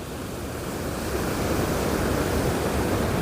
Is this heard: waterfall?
yes